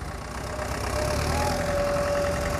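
A steady, rumbling tractor engine runs at a constant idle with a faint tonal whine, moderately loud and close, without any talking, with tractors stuck in mud pulling a sugarcane trailer.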